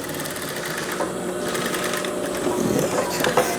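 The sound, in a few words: sewing machine stitching a pajama seam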